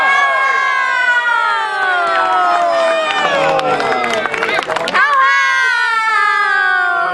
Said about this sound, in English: Let us have a big round of applause and a big how-how for our graduates